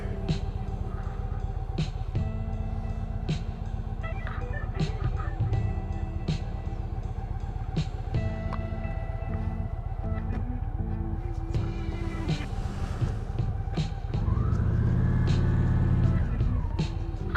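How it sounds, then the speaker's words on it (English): A motorcycle brought up to 40 km/h and stopped with only the rear brake, on a low-traction surface: a loud, steady engine drone, then a rising tire-skid squeal near the end as the rear wheel briefly locks. "I'm going to get up to speed here, 40 kilometers an hour, and use just the rear brake"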